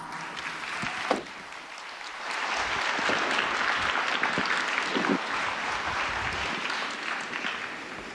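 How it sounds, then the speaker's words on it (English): An audience applauds speakers on stage at Foxconn's Hon Hai Tech Day event. Steady, dense clapping fills the hall for the whole stretch, with one sharp clap or thump standing out near the start. "Let's give them a round of applause."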